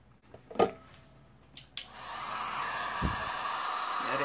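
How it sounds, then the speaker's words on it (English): Cheap handheld heat gun, used while decoupaging a lazy Susan, clicks on with a few handling knocks and then blows a steady, airy whoosh of hot air at close range, with a brief voice near the start. "Heating gun. Heat gun."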